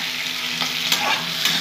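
Sugar frying in hot oil for a mutton curry gives a steady, close sizzle with a few brief stirring scrapes, alone without voices.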